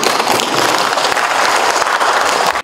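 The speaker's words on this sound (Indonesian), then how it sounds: "Tepuk tangan dulu." Applause from an audience at a meeting preparing for simultaneous regional elections, a dense, steady clapping that fills the room at full strength and stops abruptly at the end.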